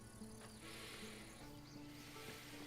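Bees buzzing around a character in a video game, a faint steady drone with thin high whining tones over quiet background sound.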